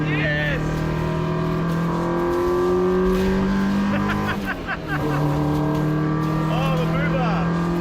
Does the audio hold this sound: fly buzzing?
no